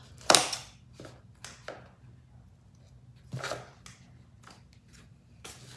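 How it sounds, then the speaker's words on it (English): An old pair of scissors snips off excess cured resin from a light-up Christmas craft in a few quiet, separate cuts, with faint handling noises between them. "I'm gonna just trim off the excess."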